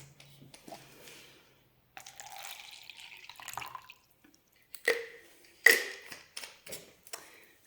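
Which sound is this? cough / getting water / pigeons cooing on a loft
getting water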